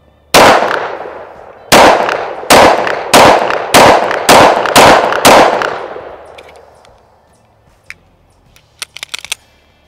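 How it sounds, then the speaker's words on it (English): Springfield XDM Elite 10mm pistol firing seven loud, sharp gunshots in a steady string roughly every half second to a second, each with a ringing tail, followed by faint metallic clinks and handling noises. "I absolutely love shooting this thing in 10mm."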